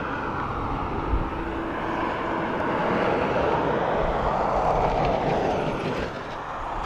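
A turboprop airliner, an ATR, at Dublin Airport gives a steady, broad engine roar that holds loud and constant for about seven seconds, with a slight dip near the end and no talk over it.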